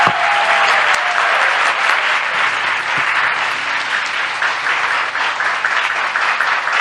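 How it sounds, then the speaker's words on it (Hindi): Audience applause fills a religious apologetics gathering, steady dense clapping from a large crowd, loud and continuous throughout with no talk over it. "आइए इसके लिए ताली बजाएं हम।"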